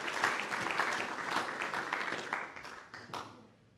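A room full of people applauds at a gathering for a committee, a dense burst of clapping that holds steady for a few seconds and then tapers away, fairly faint and distant.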